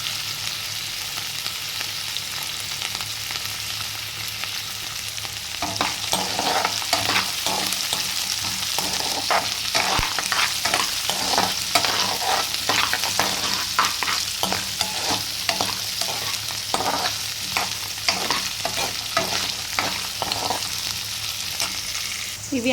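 Peanuts and dried red chillies fry in a pan with a loud, continuous sizzle, joined midway by rapid rattling and scraping as they are stirred, with no talk.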